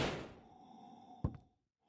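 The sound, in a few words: door kicked open violently in a horror audio story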